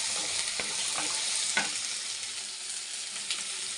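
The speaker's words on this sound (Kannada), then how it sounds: "ಆಮೇಲೆ ಹುರ್ಗಡ್ಲೆ, ಇದೆಲ್ಲ ಚೆನ್ನಾಗಿ ಫ್ರೈ ಆಗಬೇಕು" Roasted gram frying in a pan for brinjal gojju, with a steady soft sizzle and occasional scraping taps of a spoon stirring, close and moderately quiet, no talk.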